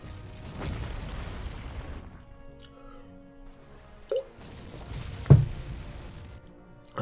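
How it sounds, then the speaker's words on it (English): Bombing explosions in the wartime strategy game Panzer Corps come as a few deep booms. A strong blast opens, then smaller thuds and a sharp hit follow, spaced apart over quieter stretches. "The bombing's real."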